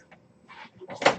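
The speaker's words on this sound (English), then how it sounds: "I gotta let Widow in." A house door opened to let a cat in: a short run of soft clicks and a latch-like rattle, ending in one sharper knock or thud, close and fairly quiet.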